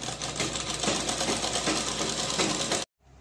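A sewing machine runs at steady speed stitching a frill onto an umbrella canopy edge, a close continuous mechanical whir and clatter that stops suddenly.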